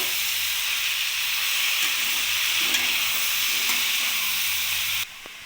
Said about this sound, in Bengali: এবার শাকটা ভালো করে নাড়িয়ে নেব